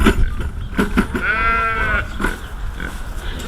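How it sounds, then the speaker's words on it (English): A sheep in a farmyard gives one clear, drawn-out bleat at close range, surrounded by rustling, thumps and other outdoor yard noise. "Oh shoot, the sheep are in our yard."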